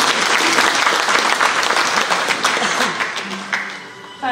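An audience claps at a local political coalition's presentation of city council candidates, a dense loud round of applause that slowly thins out and fades toward the end.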